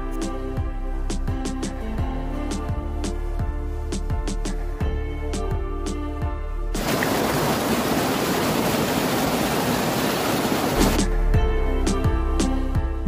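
Betwa river flowing at Orchha, a steady rushing water noise that surges louder for several seconds in the middle, over a background of sharp clicks and faint hum.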